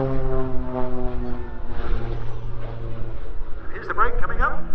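An aerobatic aircraft performing at the Southport Air Show, a droning engine with rising and falling pitch heard under steady commentary.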